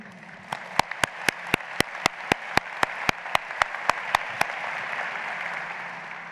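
Audience applause at a graduation speech, a steady wash of clapping running throughout, with a series of sharp, evenly spaced loud claps standing out over the first four seconds.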